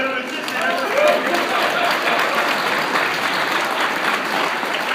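Audience at a local talent show in Hearst, breaking into dense, loud applause that swells early and holds steady throughout, with voices mixed in.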